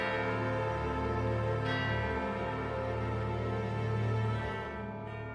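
The recast church bells of the Frauenkirche in Dresden ring in a sustained, rich, overlapping peal. The loud, steady tones hang in the air and fade toward the end, with no voices.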